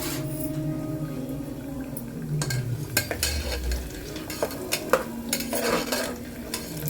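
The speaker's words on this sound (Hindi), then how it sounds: "इसको हम डाल देंगे और फ्राई करेंगे।" Dal badi, sun-dried lentil dumplings, frying in oil as they are stirred, a low sizzle beneath repeated clinks and scrapes of a spoon against the pan.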